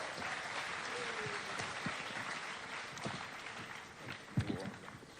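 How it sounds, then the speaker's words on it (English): An audience at a Commonwealth Youth event in Ghana applauds, a steady, fairly distant wash of clapping that holds for several seconds, with a few louder thumps near the end. "Round of applause for him"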